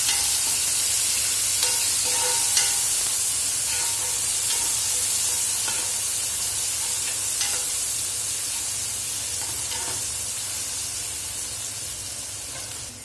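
Tomatoes and onions frying in a pan give off a steady, close sizzle and hiss, with occasional scrapes and taps of stirring breaking through the continuous frying noise.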